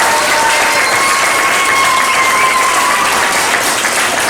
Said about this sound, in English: Can you guys please give a huge round of applause to these amazing kids